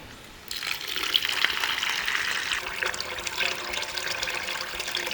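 Water, 2.5 litres, pours steadily into a cooking pot for nonbu kanji rice porridge, a continuous close splashing gush that holds for several seconds without pause.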